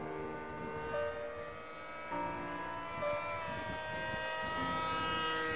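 A Racestar BR2212 1800Kv brushless motor spinning a propeller at half throttle gives a steady, close whine with stacked tonal harmonics, rising slightly in pitch partway through and holding level to the end.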